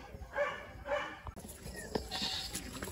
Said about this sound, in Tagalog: Oh, ito na naman yung kambing ko.